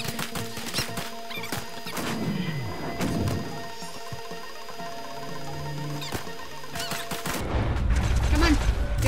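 Scattered gunshots ring out in a Red Dead Redemption 2 shootout, with separate sharp cracks and a few impacts spaced over several seconds. A louder, rumbling stretch closes the passage.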